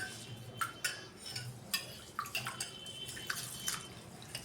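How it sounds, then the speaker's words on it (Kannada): Soft watery splashes and light grainy clinks repeat irregularly, as if rice is being swished and rinsed in a bowl; quiet and close. "ಇದನ್ನು ಇವಾಗ ನೀರು ಹಾಕಿ ನೀಟಾಗಿ ನಾವು ತೊಳಿಬೇಕ್ರಿ"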